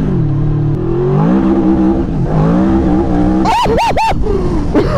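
A modified 200-horsepower Yamaha V-Max V4 motorcycle engine revving loudly and close, its pitch climbing and falling through several sharp throttle blips near the end.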